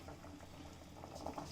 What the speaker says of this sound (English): It is boiling.